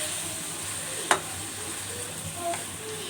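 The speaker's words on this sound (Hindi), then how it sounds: "अब मैं इसमें टमाटर ऐड कर रही हूँ और टमाटरों को इसमें मैं 5 मिनट जो है भूनूँगी।" Tomatoes fry with steamed bottle gourd in a pan, giving a soft, continuous sizzle with an occasional sharp clink of a utensil, no talking.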